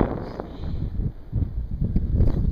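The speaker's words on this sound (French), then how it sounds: "Il y a du vent." Wind buffets a microphone outdoors on a mountain hike through rugged cirques, a loud, rough low rumble that rises and falls in gusts throughout with no clear talking.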